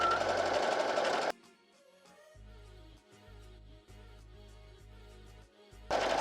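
A domestic sewing machine runs in several steady bursts of stitching on fabric, stopping briefly between runs as the piece is turned at the corners; loud and close, with louder room sound at the start and end.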